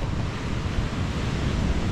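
Rough waves wash and roar steadily under strong, buffeting wind hitting the microphone, a dense continuous rush with no voices.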